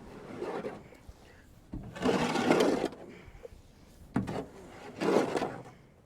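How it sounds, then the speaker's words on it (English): A long-handled shovel scrapes leftover feed out of a feed wagon, giving three separate rough scraping strokes spaced a few seconds apart, fairly close and moderately loud with quieter rustling between them. "Just gonna try to use a shovel. It's got a longer handle. I think I can just scrape the rest out."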